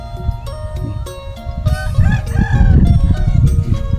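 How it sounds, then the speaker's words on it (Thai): A rooster crows loudly and close by in the countryside beside ripening rice fields, one long, rising and falling cock-a-doodle-doo over a bed of clucking fowl and farmyard noise. "บรรยากาศไก่ขันบรรยากาศอยู่เทียงนาเนาะ"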